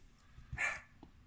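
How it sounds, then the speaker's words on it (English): A dog barks once in a short, sharp burst indoors, with faint rustling and a small thump around it. The bark is moderately close but not loud. "there's one of the dogs losing their minds."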